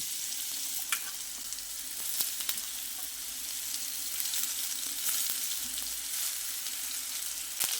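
Chopped potatoes fry in hot oil with spice tempering, a steady close sizzle broken by sharp clicks and scrapes of stirring, with no talk.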